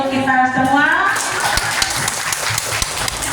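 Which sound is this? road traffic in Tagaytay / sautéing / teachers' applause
teachers' applause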